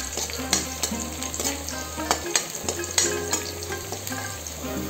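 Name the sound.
onions frying in a pan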